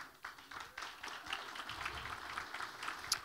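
Scattered, moderate clapping from an audience at an economic forecast event, uneven with a few distinct hand claps standing out over a soft wash of applause.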